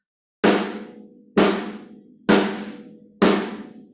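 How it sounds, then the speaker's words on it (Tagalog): Four separate drum strikes hit so the stick catches the rim, giving a fuller, ringing tone, spaced about a second apart, each sharp onset decaying evenly, with no talking. "Pero pag pinatama ko po sa rim, mas buo yung tunog ng drums."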